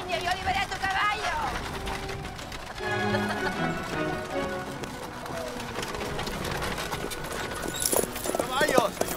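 Horse hooves clip-clop on the ground in a Tierra del Fuego setting, a steady rhythmic beat running under a dense mix of spoken dialogue and background sound.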